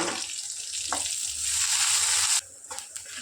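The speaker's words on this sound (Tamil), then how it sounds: "நல்லா வறுத்துக்கோணும் வறுத்துருச்சுங்க" Curry leaves and fenugreek powder fry in hot oil for sambar, a close, steady crackling sizzle that swells for a couple of seconds, then cuts off abruptly and leaves faint clicks and stirring.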